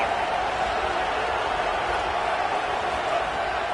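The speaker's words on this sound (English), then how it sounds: "Crowd getting this defense whipped up on third down." Football stadium crowd at a Mizzou versus Ole Miss college game roaring on third down, a dense, loud, sustained wash of cheering noise with no breaks.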